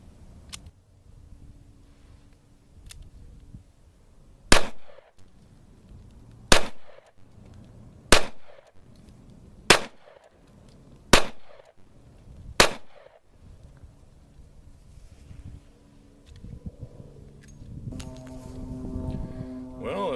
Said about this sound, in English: today we're shooting the Smith & Wesson Model 15, the Combat Masterpiece